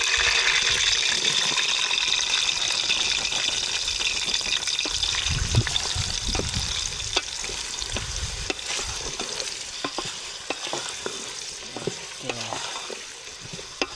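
Onions frying in a pan over a fire at a campsite in the rain, a continuous sizzling hiss with scattered stirring clicks and taps and a watery, splashy undertone.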